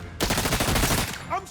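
Gunfire in the video game First Light comes as a dense, loud burst of rapid shots lasting about a second, close up, then a brief electronic tone as it cuts off.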